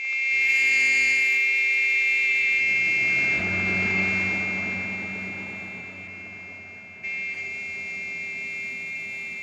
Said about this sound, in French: Le klaxon, le klaxon!